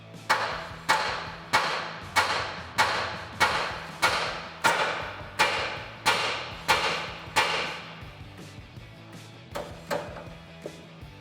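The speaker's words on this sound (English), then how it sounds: "to beat this collar here with a hammer just to break that taper loose" A hammer beats on a steering collar to break the taper loose on a 2007-2020 Toyota Tundra, a dozen sharp metallic blows ringing out at a steady pace, then a short pause and a few more strikes.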